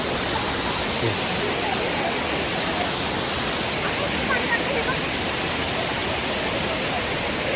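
Waterfall at Tamhini Ghat, a steady, dense roar of falling water that fills the scene at close range and holds constant throughout, with no other sound standing out.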